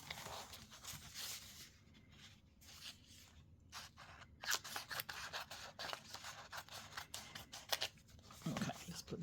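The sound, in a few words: scissors cutting out a paper page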